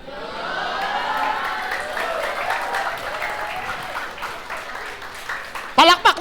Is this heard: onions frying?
no